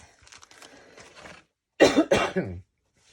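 Soft murmuring gives way to a pause, then two or three sharp, close coughs in quick succession.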